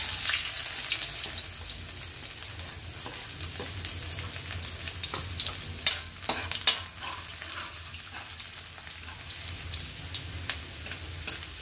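Garlic sizzles in hot cooking oil with a steady crackling fry, close and moderately loud, broken by a few sharper clacks of a utensil against the pan partway through.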